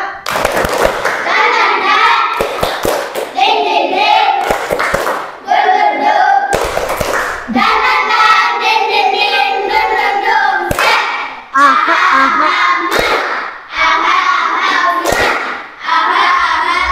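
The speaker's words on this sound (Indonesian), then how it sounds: "Tepuk semangat." A class of schoolchildren performs a rhythmic spirit clap, loud bursts of hand claps in patterned groups alternating with short shouted chant phrases, close and filling the room.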